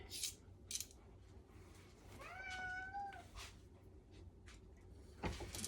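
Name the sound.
cats meowing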